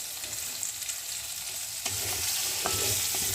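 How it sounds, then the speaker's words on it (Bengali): Potato pieces frying in a pan with salt and turmeric, a close, continuous hiss and crackle of hot oil, with stirring clinks and a louder sizzle surge partway through. "আলুগুলো সামান্য নুন হলুদ দিয়ে ভেজে রাখছি।"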